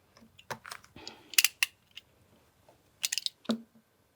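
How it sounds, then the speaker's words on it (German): A sharp utility knife cuts leather for sandal straps in short, close scraping and slicing strokes with quiet pauses between them, at a low overall level. "ich mache das immer am liebsten direkt mit dem Cutter"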